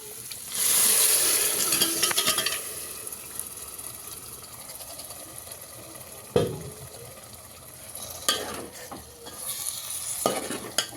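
Mutton sizzles and fries in a chilli spice masala while being stirred, with a continuous crackling hiss broken by several sharp scrapes and clatters of the spoon against the pan, close and fairly loud.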